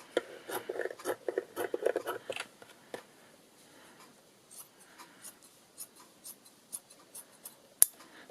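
Scissors snip through a dried, paint- and ink-stained baby wipe, giving a quick run of close, crisp cutting crunches followed by sparser, fainter snips and a sharp click near the end.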